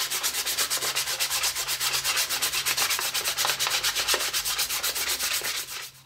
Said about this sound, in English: I did round off just with a little bit of hand sanding the top edges of here just to soften that sharp edge.